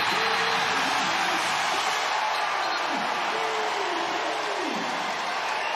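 A basketball crowd cheers in an arena, a loud, constant roar that holds steady throughout while a commentator speaks over it.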